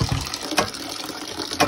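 Hot water gushes into a container for washing clothes outdoors in a hillside village, a close splashing pour with a couple of louder surges.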